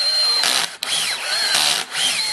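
A corded power drill whines steadily at high speed for a Ford Falcon XF door handle repair, its pitch dipping briefly twice as the load changes, loud and close with no talk.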